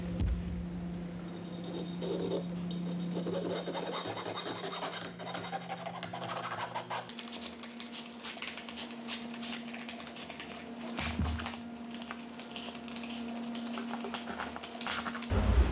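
Canvas being cut into 125-inch yurt roof segments, a steady scratchy rasp of blade or shears through heavy fabric continuing throughout, close and moderately loud with a low hum underneath and no talk.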